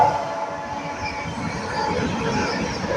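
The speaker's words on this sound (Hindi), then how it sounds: "ये लीजिए भैया, फुल होंके के साथ आ रही डिब्रूगढ़ न्यू दिल्ली राजधानी।" Low rumbling rush of the Dibrugarh New Delhi Rajdhani Express passing on the rails, a steady continuous roar with faint higher tones and no distinct horn blast, fairly close.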